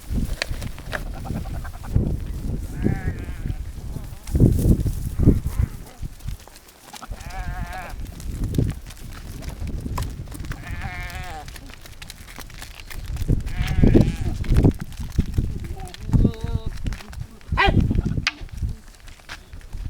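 Goats and sheep of a farm herd bleating repeatedly, several animals calling near and far over rustling movement and low background noise.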